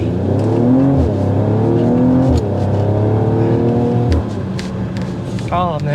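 A 2024 Mercedes AMG GLE 53 Coupe with a turbo engine pulls away hard from a stop, its engine note climbing loud and close through the gears while a voice talks over it.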